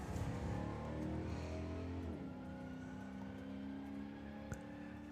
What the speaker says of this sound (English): Loving the sound of the straight cut gears.